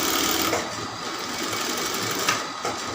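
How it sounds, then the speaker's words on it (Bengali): A sewing machine stitches one side of a petticoat, its motor running steadily in a close, continuous whir with a rapid needle rattle and no speech. "চিকন করে এক পাশ সেলাই দিলাম"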